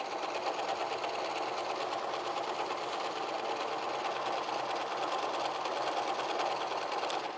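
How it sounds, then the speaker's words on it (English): A sewing machine runs steadily, stitching apron fabric, a continuous close whirring hum that holds at an even level with no pauses. "You don't have to pull it because you have feed dogs up under the bottom that makes your material move."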